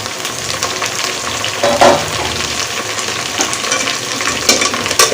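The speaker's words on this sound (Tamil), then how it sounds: "இப்போ இதில் எடுத்து வச்சுருக்க புதினா கொத்தமல்லி ரெண்டையும் சேர்த்துடலாம்" Mint and coriander sauté in a hot pan: a loud, close, continuous sizzle and crackle of frying, with a few scraping stirs partway through.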